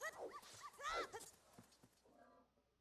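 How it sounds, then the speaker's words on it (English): Dog barking effect swapped onto the hover boots in an Ocarina of Time Randomizer game: a few quick yips and whimpers close up, then fading into quiet game sound. "Somebody I know always has the dog barking sound effect on the hover boots"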